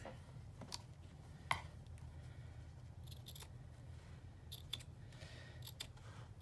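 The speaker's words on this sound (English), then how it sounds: "I cut that extra piece off" Scissors trim an extra piece off a journal's curved spine, giving a few faint, close snips and clicks spaced irregularly over a quiet low hum.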